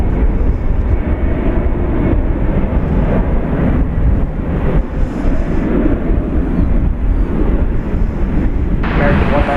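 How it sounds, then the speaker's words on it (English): An American Airlines Boeing 787-8 Dreamliner arrives at DFW Airport, a loud, continuous jet rumble mixed with wind buffeting the microphone, with voices at times. "American Airlines Dreamliner -8 coming in from Barcelona in España."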